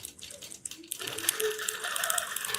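A computerized sewing machine stitching straight quilting lines across a quilt, starting after a quiet moment and running as a steady, close mechanical whir with rapid needle ticking that continues to the end.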